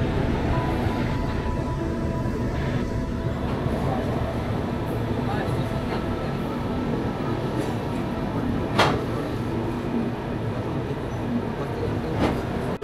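Humsafar passenger train pulling into Gaya Junction station, a steady, loud rolling rumble of carriages with occasional sharp metallic clicks and squeals over the continuous rail noise.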